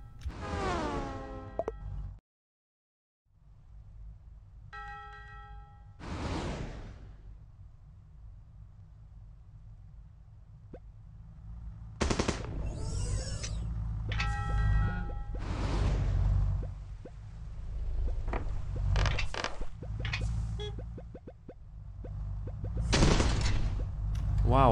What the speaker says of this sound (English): Wow, he's shooting.